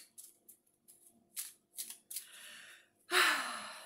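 Oracle cards shuffled and drawn by hand, a run of soft papery riffles and slides in short bursts, ending in one louder, longer shuffle, close and quiet with no talking.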